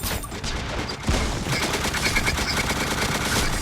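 Rapid automatic gunfire from the mobile shooter game Standoff sprays continuously and loudly for the whole stretch, bursts overlapping into a dense, unbroken clatter with no talking.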